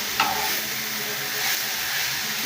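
Kalai greens are stir-fried with oil, onion and garlic in a pan, producing a continuous close sizzle and hiss with brief stirring scrapes over a couple of seconds.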